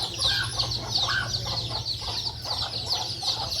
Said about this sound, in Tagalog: Pakain tayo sa mga alaga natin ng manok. Kasi ingay na sila.